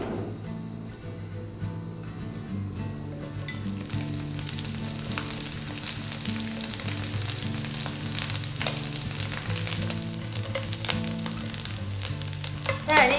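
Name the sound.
pan-frying wheat gluten sausage in vegetable oil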